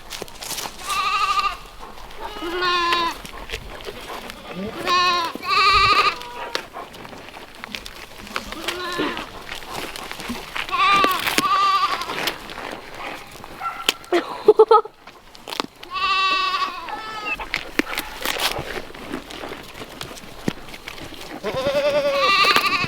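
Several goats bleat repeatedly up close while being hand-fed Swiss chard, overlapping calls coming in bursts, with faint rustling and chewing noises between them.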